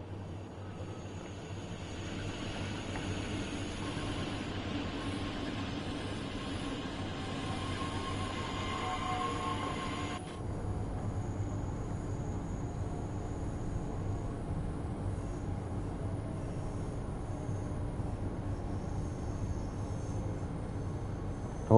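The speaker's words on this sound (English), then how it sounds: "Oh, train." Train passing in Train Sim World 2, a long steady rumbling roar of rail wagons rolling by, loud and continuous with a brief shift in tone midway, no voices.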